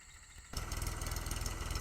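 A tractor earthing up soil along peanut rows in a field runs with a steady mid-pitched engine drone that rises abruptly after a quieter start and holds, close and uninterrupted.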